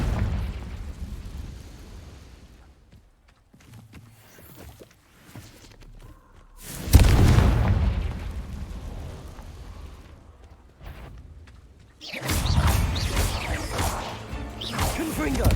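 Confringo fire spells blasting in Hogwarts Legacy, two loud explosive bursts with a whooshing burn-off, the first near seven seconds and a second, broader blast at twelve seconds, separated by quieter low rumbling game ambience.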